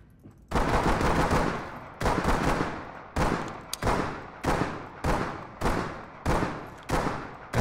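Gunshots ring out in the tactical shooter Ready or Not: a sustained burst first, then a steady series of single loud reports about a second apart, each trailing off in a long echoing decay.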